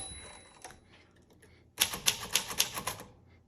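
Quiet faint clacks at first, then a quick burst of sharp, loud keystrokes on a 1939 Smith Corona Silent manual typewriter in an uneven rhythm, close by.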